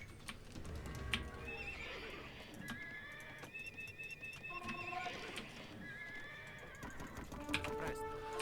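Scout cavalry horses neigh and whinny in Age of Empires II, several whinnies rising over a busy game soundscape with clip-clopping hooves, bird calls and faint talk underneath.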